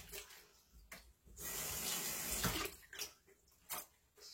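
Tap water runs steadily into a kitchen sink while saltfish is rinsed under it, a broad splashing hiss with short breaks and bursts as the fish is moved through the stream.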